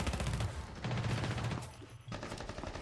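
Gunfire rattles from an upper floor in a competitive Rainbow Six Siege esports match, two or three quick bursts of rapid shots in close succession with a short gap between them.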